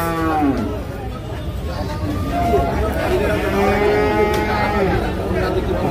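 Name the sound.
Sahiwal bull calves at a cattle market, mooing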